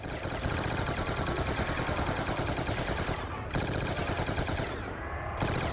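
Dense, continuous automatic gunfire in the Nuketown Zombies video game, rapid rattling bursts with two brief gaps where firing pauses before resuming, loud and close throughout.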